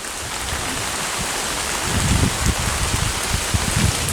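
Heavy rain falls beside a pond in a continuous loud hiss, with heavier drops and low splashy thumps growing stronger in the second half, alone and close.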